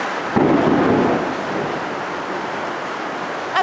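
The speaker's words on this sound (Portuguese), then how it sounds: "Olha que linda essa chuva!" Heavy rain pours steadily over open countryside, a loud crack of thunder breaking in near the start and rumbling off under the constant downpour.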